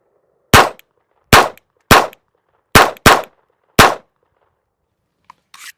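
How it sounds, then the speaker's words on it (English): An unsuppressed FN502 Tactical .22 pistol firing six loud, sharp cracks at irregular intervals, two of them nearly back to back, each ending abruptly in silence. "The FN502 Tactical without any suppression on it"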